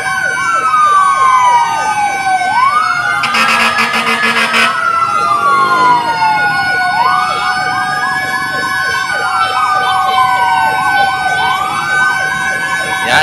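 A Malacañang fire truck heading to a fire at the pier passes close by, its loud wailing siren sweeping up and down repeatedly, with a brief blaring horn blast early on over the traffic rumble.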